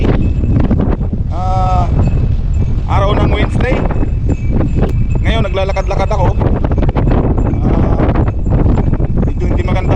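Strong outdoor wind on a blustery January day buffets the microphone as a steady, rough low rumble beneath someone talking continuously while walking.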